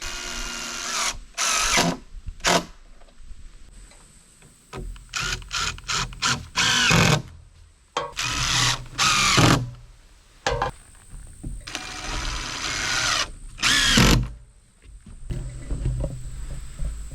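Power drill driving screws into wooden treehouse floor joists in the woods: a series of loud, close whirring bursts of varying length, separated by short pauses.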